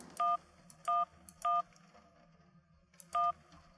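Telephone keypad tones in the video game Syberia: three quick dialing beeps in a row, a pause, then a fourth beep, each tone clean and distinct over a faint background hum.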